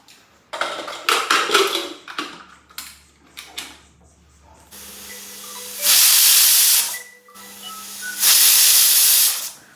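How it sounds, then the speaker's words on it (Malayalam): A pressure cooker on the stove with pork inside vents hissing steam, first in short sputtering bursts, then two long, loud sustained whistles, with quieter hissing between them. "അപ്പൊ അങ്ങനെ 2 വിസിലടിച്ചു."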